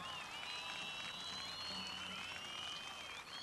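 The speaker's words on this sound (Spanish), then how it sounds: "venga el aplauso" Distant crowd applause at a ranchero jaripeo rodeo, a faint steady patter with thin high whistles drifting above it for a few seconds.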